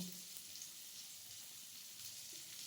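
A faint, steady sizzle of food with turmeric frying in a pan, a soft continuous hiss with no talking.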